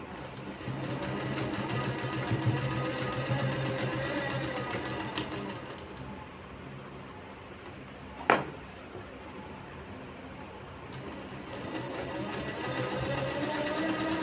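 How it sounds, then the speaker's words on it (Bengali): A sewing machine runs steadily, stitching the side pocket of a pair of trousers, its continuous motor hum and needle chatter filling the clip with one sharp click midway and no talking. "আস্তে আস্তে সেলাই করবে ধরে ধরে সমানভাবে।"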